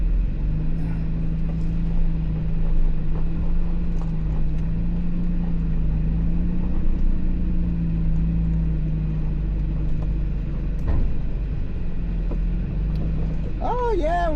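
An off-road vehicle crawling over rocks on the Telegraph Line Trail near Cave Creek, Arizona, its engine a steady, loud low drone at near-idle, with occasional knocks and a voice speaking near the end.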